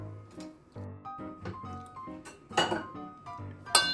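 A spoon clinks and scrapes against a bowl as cooked Maggi noodles are stirred together with oil and other ingredients, giving a series of irregular metallic taps and knocks close by.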